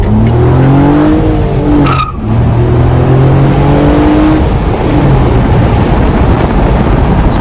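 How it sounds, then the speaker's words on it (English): A 2013 Honda Accord Coupe V6 with a manual gearbox accelerates hard: a loud engine note climbs in pitch, drops sharply at a gear change, then climbs again with a strong, rough roar. "So let's do a quick acceleration here."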